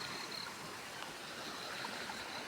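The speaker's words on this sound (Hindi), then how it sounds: "ये है नदी जो आती है बहुत ऊपर से।" A river flows steadily down from high in the hills past a bhangul tree, its broadband rushing wash holding even and moderately loud throughout with no talk.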